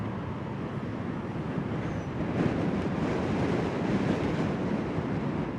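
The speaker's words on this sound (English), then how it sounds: "Holy hell, it is windy." Strong wind roars and buffets outdoors beside water where jet skis operate, a steady broadband rush that swells slightly midway and continues without speech.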